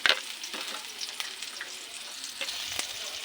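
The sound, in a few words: garlic and onion frying in a pan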